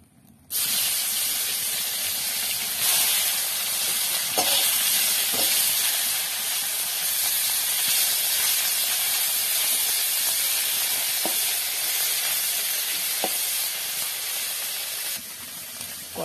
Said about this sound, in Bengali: টকের মাছটা বসিয়ে দিই